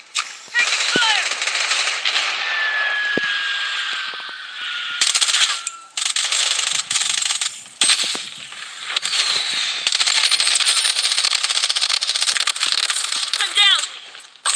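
Gunfire from a video game squad fight: dense bursts of automatic fire and sharp shots run almost continuously, loud and close, with brief gaps and a few metallic clinks and ricochet-like whines between volleys.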